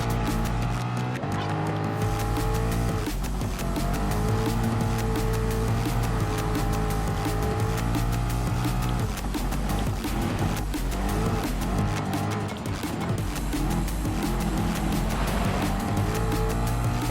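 Ford Mustang Gr.B rally car racing in Gran Turismo Sport: a loud, continuous engine drone with rising and falling revs and occasional tire squeal, steady and close throughout.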